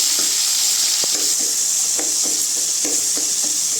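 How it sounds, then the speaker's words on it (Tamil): Onions and tomatoes with a little salt fry in a pan for Chettinad mutton chukka, a steady loud sizzle broken by regular scraping stirs of the spoon. "தக்காளி போட்டுக்கோங்க. கொஞ்சமாக உப்பு போட்டுக்கோங்க. நல்லா கிண்டி விடுங்க"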